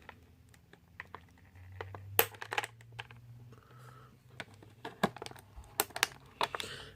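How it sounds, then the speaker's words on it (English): Nail clippers snipping twist ties off a packaged action figure: a series of small, sharp clicks and snaps at irregular intervals, close and quiet, with light rustling of packaging between cuts. "So, got some trusty nail clippers to cut these off."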